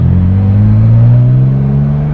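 A 1960 Aston Martin DB4 Series 2 Coupe engine accelerating on a road test, a loud close-up straight-six drone with its pitch climbing steadily and then holding, alone without talk.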